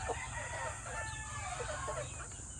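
Four-month-old Black Kelso and Boston Roundhead gamefowl cluck and crow in a breeding area, faintly and steadily, under constant background noise.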